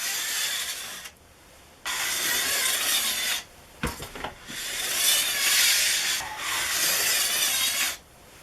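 A metal file drawn along a ski's steel edge in a Toko Edge Tuner, with long, smooth scraping strokes repeated in steady passes and brief pauses between them, close and moderately quiet.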